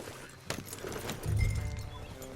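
Horse hooves in the video game Red Dead Redemption 2, a brief burst of clip-clopping and a thump after a sharp hit, set against game ambience with no talking.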